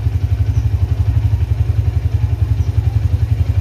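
A Honda Tiger Revo motorcycle engine runs at a steady idle, its low, rhythmic thumping pulse loud and close with a slight mechanical clatter and no voices.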